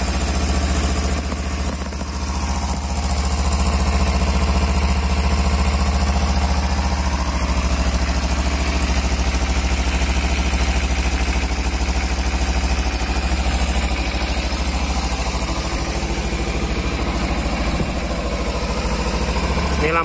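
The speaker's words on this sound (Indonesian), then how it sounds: "seperti inilah suara dari Ninja 250 cc Fi. Nah, ini masih menggunakan knalpot standarnya." A 2015 Kawasaki Ninja 250 FI motorcycle with its standard exhaust idles steadily up close, a constant low throbbing engine note that stays even from start to finish.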